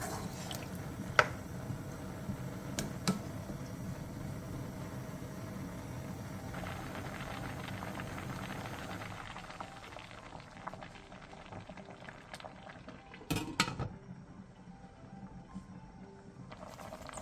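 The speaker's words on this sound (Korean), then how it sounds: "센 불에서 끓이다가 물이 끓어오르면 중약불로 줄인 뒤 뚜껑을 닫고 10분간 끓여" Radish simmering in anchovy broth in a covered pot over medium-low heat, a steady low bubbling that runs on with faint drips and a couple of sharp clicks, then quieter toward the end.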